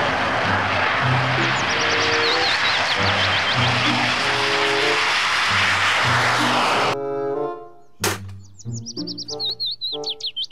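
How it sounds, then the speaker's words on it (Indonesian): A toy fighter jet sounds off with a loud sustained electronic engine roar layered with chirping, warbling tones, cutting out near the seven-second mark, then returning in short bursts with a sharp click. "Pesawat jet tempur"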